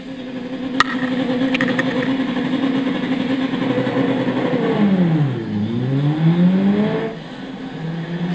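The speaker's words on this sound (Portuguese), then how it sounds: "Deixei um ronquinho para vocês, o belo ronco do Subaru EJ." Turbocharged 2-litre Subaru EJ boxer engine of a 2003 Legacy Touring GT-B in Gran Turismo 6, revving steadily with a droning note, then dropping sharply and climbing again, with a couple of sharp clicks early on.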